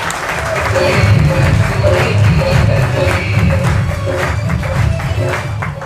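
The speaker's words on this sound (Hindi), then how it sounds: "तो एक बार आप सभी के लिए, अपने आप के लिए बहुत बहुत तालियां बजाएं" At a large network-marketing program in Ahmedabad, a hall full of people applauds with a dense, sustained roar of clapping over a low hum, steady throughout with faint crowd voices mixed in.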